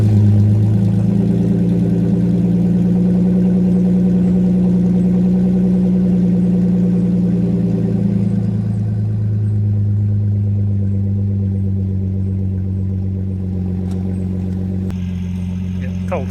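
A Holden VS V6 ute idles on a cold start through a 2.5-inch Redback catback exhaust with one muffler, stock Y-pipe, cat and headers: a steady low rumble that drops slightly as the idle settles, close and loud.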